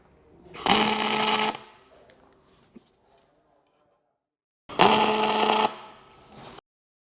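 A welder tack welds a control arm pocket in two separate bursts, each a loud, steady crackling buzz lasting about a second, with a quiet gap between them.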